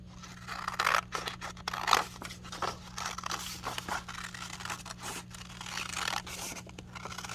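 Scissors snip through paper to cut out a hand-drawn heart shape, a quiet run of crisp, irregular cuts and rustles with small pauses between them, close up and with no talking over the sound.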